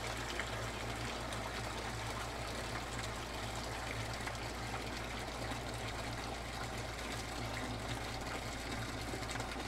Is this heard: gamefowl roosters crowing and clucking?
no